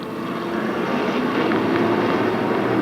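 Pro stock race cars at Stafford Speedway in 1992 accelerate back up to speed after a caution, a loud, continuous engine roar that holds steady and swells slightly throughout.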